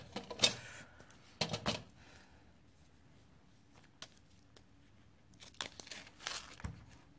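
Backing strips peeled off double-sided tape for sticking a paper strip onto a vintage photo album page, a few short close rips and crinkles separated by quiet pauses.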